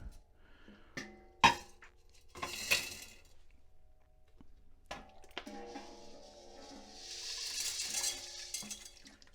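Gold pieces drop into a glass beaker during gold refining, with several sharp clinks and taps close up, then a longer rattling, sizzling wash of metal against glass.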